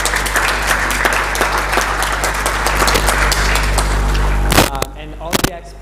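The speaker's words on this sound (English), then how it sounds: "Please, a round of applause." A conference audience applauds loudly and steadily for several seconds as a chamber of commerce director is introduced, then the clapping breaks off abruptly near the end.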